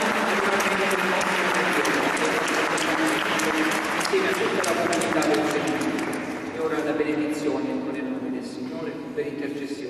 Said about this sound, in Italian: E anche un grande applauso per Luca perché è stato bravo.